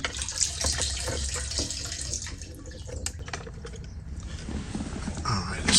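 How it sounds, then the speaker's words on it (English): Gasoline draining from a disconnected fuel line on a Kia Forte that won't start, a close, steady trickling splash of liquid with small clicks and clatter, no talking. "Let the gas drain off."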